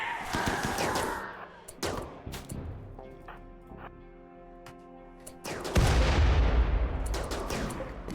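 Hellcat rifle gunfire in the video game RimWorld: bursts of rapid automatic shots crackle near and loud, with a steady tonal hum between bursts and heavy impacts toward the end.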